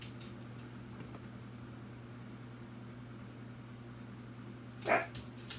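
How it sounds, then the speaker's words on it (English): A household dog lets out a brief burst of barking near the end, sharp and fairly close, after a long stretch of steady low room hum. "maybe I'm gonna get through this whole thing without these dogs. They're driving me nuts."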